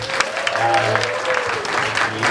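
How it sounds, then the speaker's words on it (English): Applause from a crowd, steady clapping throughout with a low hum and some voices mixed underneath. "I just want to have another round of applause for our creators here"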